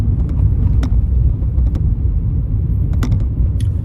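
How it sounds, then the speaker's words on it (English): Tyres roar over a rough road surface on a driving test route in Edinburgh, a loud, steady rumble inside the car with occasional small knocks and clicks. "It's a rough road. I don't like rough roads. It makes a lot of noise, but we just have to drive through it."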